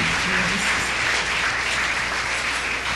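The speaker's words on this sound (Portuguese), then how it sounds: "Vamos dar um aplauso, agradecendo a Deus por esta noite." A church congregation applauding during an evening worship service, a steady, dense roar of many hands clapping together at close range, with no pauses across the stretch.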